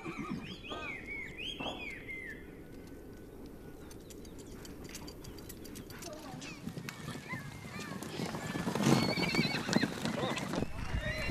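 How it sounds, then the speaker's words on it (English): A large herd of horses is rounded up on open grassland, with several whinnies and neighs early on and a constant mass of trampling hooves that swells louder toward the end, while a narrator talks over it. "The livestock farmers round up the large herds of horses and put them in enclosures on farms"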